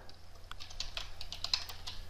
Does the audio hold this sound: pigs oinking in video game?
no